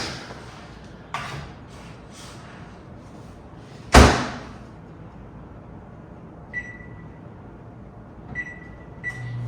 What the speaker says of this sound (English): let's get this up in the microwave